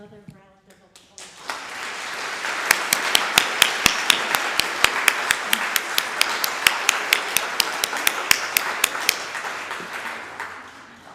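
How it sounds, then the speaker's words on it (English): Applause swells from a crowd at a climate change talk, with sharp, rhythmic individual claps standing out above a softer wash of clapping, while a voice speaks briefly at the start. "And let's have another round of applause."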